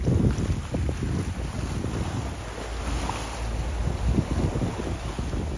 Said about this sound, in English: The wind has actually got up a little bit from the north